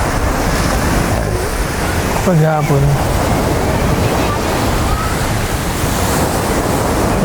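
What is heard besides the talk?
strong ocean waves on Pagudpud beach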